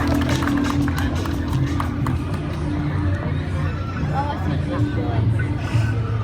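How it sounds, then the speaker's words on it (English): Dense, steady applause from a show audience welcoming a man to the stage, loud and continuous with crowd murmur mixed in throughout. "give this gentleman a round of applause to welcome him to the stage"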